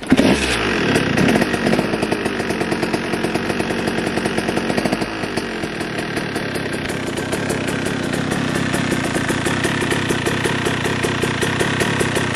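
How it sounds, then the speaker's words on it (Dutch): A 2022 TC125/150 motorcycle engine runs loud and close, a rapid steady idle that clatters along evenly with no voices. "nu hebben jullie de motor kunnen zien lopen"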